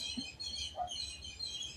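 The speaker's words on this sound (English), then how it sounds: "Those are birds." Birds chirping near a seashore in the Philippines, a few faint, scattered high tweets over a soft steady background, with no talk.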